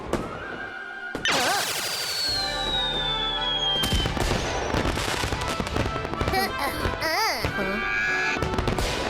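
Diwali firecrackers in a cartoon: sharp popping bursts crackle through a busy scene, mixed with a horse's whinnies, clip-clop and music, with a voice briefly heard.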